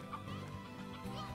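Chickens in the video game Slime Rancher cluck quietly over a steady ambient game background, soft and somewhat distant, with a few short calls.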